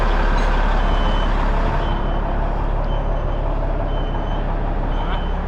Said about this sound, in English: So it looks like they're bringing the bus around right now.